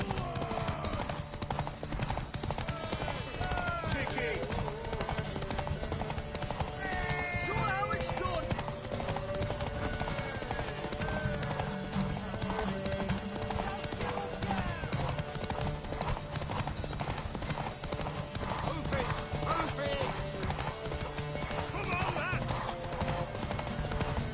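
Horse hooves clip-clop steadily in the Witcher 3 game world, a continuous rhythmic trot mixed with music and a whinny, while voices talk over the top throughout.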